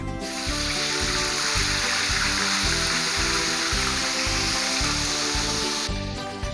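Chicken pieces fry in hot oil for butter fried chicken, giving a loud, continuous close-up sizzle and crackle that holds steady and then cuts off near the end.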